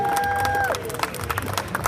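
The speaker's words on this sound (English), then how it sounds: "A big applause for my dad." An audience at a cigar trade-show media briefing breaks into applause, a short burst of scattered handclaps with a few cheers that follows a brief electronic tone. Some voices are heard.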